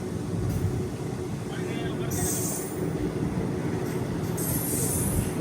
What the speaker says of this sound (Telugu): అక్కడ ఇంకో ట్రైన్ ఉంది.